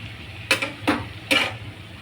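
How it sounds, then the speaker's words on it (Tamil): Spinach is sautéed in a pan for palak biryani, heard as three quick scraping stirs of a utensil against the pan over a low background hum. "இப்படி நல்லா வந்து வதக்கிடணும்"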